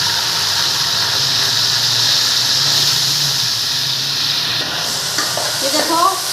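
Potatoes frying in a pan for a potato and egg dish: a loud, dense, steady sizzle and hiss filling the whole stretch, with a few light clinks from stirring near the end.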